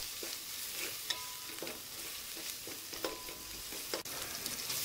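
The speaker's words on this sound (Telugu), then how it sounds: "ఇది పచ్చి స్మెల్ వెళ్ళేంత వరకు ఫ్రై చేసుకోవాలి." Ginger garlic paste frying in a pan for a gongura chicken curry, a steady soft sizzle with occasional stirring scrapes and clinks throughout, moderately quiet and close, with no voices.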